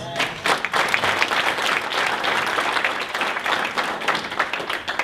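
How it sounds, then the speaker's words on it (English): Audience at a training event clapping in a full, dense round of applause that stays loud and even from start to finish. "Let's give that a round of applause."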